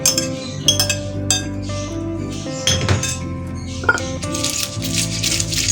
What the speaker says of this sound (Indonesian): awalnya kita ulek dulu untuk cabenya